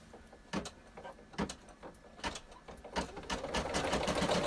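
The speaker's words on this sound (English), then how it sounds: "Now I'm going to go ahead and place my felt over it and stitch the tack down." An embroidery machine stitches a tack-down line through felt laid over placement stitching for a treat pouch, giving a quiet, fast mechanical whir with soft periodic thumps that build into a steadier hum toward the end.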